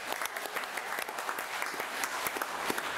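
Quiet, steady applause from a small group at a budget hearing meeting, a scatter of individual claps blending into soft continuous clapping.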